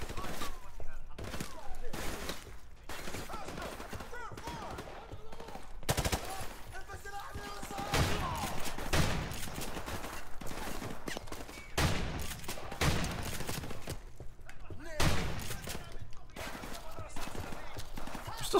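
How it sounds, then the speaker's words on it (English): Bursts of automatic gunfire and single shots from Call of Duty 4: Modern Warfare Remastered come in repeated volleys with short gaps, loud and sharp, with faint game ambience between. "Still someone in here shooting around."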